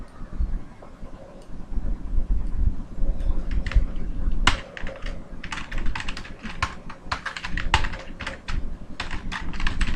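Rapid computer keyboard typing for a copy-and-paste key combination while working in Microsoft Word, a steady run of close, crisp key clicks with a few louder key presses, over a soft background hum.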